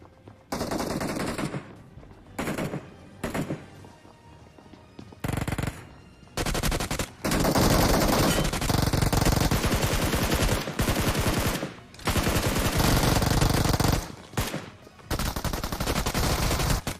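Loud automatic gunfire from a battle royale video game comes in repeated long bursts of rapid shots separated by short silent gaps.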